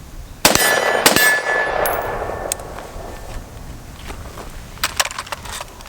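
7.62x39 rifle rounds strike steel targets at close range: a few loud, sharp metallic clangs with ringing decay, followed by several fainter, quicker impacts in a loose burst near the end.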